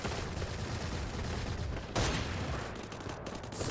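Gunfire in a shooter video game, dense rapid bursts of shots layered into a continuous loud barrage, with a sharper burst partway through.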